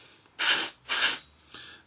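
A spray can mists paint onto parts of a Trumpeter 1/32 AV-8B Harrier model kit: two loud, close hissing bursts of about half a second each, then a shorter, fainter squirt.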